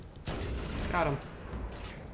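Gunfire in Halo CE Anniversary sounds as a burst of game shots and booms over a busy battle background, with a voice briefly speaking over the noise.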